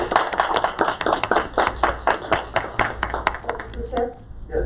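A few people clap their hands at a school district board meeting, a brisk run of sharp, close claps in a quiet room that thins out and stops near the end.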